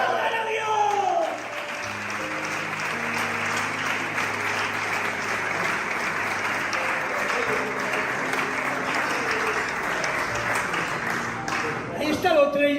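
A church congregation applauds steadily for about ten seconds, a broad wash of clapping with a sustained organ or keyboard chord underneath; a voice speaks briefly at the start and end.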